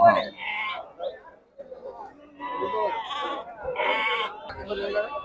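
Sheep and lambs bleat in short, wavering calls at the Sira sheep market. Several cries come close together over a few seconds, mixed with nearby people talking.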